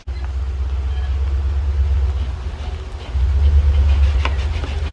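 A truck drives up a driveway, its engine giving a loud, steady low rumble close by that swells again partway through as it keeps rolling.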